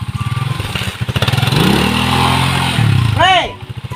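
A motorcycle engine putters in rapid pulses, then revs up into a sustained drone before the throttle rises again, close and loud, with people talking over it.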